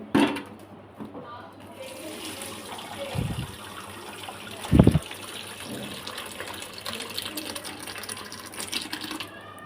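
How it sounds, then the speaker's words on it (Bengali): Whey from curdled spoiled milk pours and splashes steadily through a strainer, separating the chhana curds, with a couple of louder sloshing bursts midway and a low background hum. "এবার আমি দুধটাকে ছাকিয়ে নিচ্ছি"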